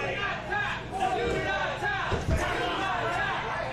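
A wrestling crowd shouts encouragement at a pro wrestling show while a wrestler is trapped in an STF-style leg and neck hold, a dense, steady roar with louder surges and overlapping chatter.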